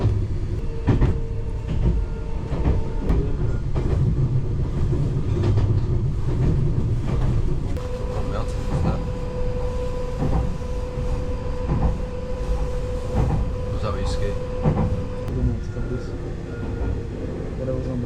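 Continuous rumble of a moving train in Japan, with rattling and humming carriage noise throughout and occasional voices talking over it.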